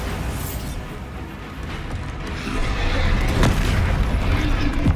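Bombarda spell explosion in Hogwarts Legacy, a loud booming blast that swells in the second half amid combat noise, with a voice calling out over it.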